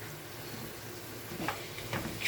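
Quarter kilo of minced local beef with some fat frying in a pan, a steady soft sizzle with a few louder crackles and stirring near the end, close and alone.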